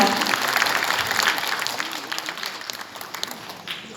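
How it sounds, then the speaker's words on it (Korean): Audience applause at an award ceremony for a Prime Minister's commendation to the Korean unwed mothers' family association, a moderate burst of clapping that thins and tapers toward the end. "박수 부탁드리겠습니다."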